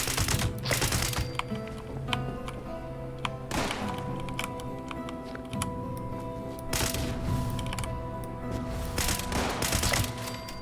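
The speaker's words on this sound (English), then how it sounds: "I wanted to shoot her through the fence" Scattered gunfire in Fallout 76, a few sharp reports and tapping thunks over a steady humming backdrop, with occasional clustered bursts of shots and no talk.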